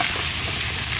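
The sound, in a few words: stirring pumpkin curry frying with black cumin, chilli, hing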